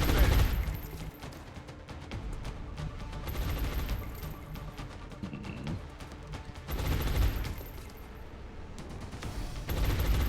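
Suppressing gunfire from a soldier in XCOM: Enemy Unknown, dense rapid automatic bursts that rattle on and off at moderate level against battle ambience.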